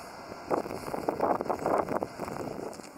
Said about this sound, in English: there was just too much tugboat noise and wind noise